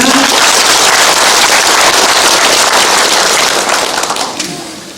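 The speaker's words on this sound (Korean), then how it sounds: "큰 박수 부탁드립니다" Audience applause after a speech at a Jecheon city briefing, a dense, steady wash of clapping filling the whole stretch before tapering off near the end.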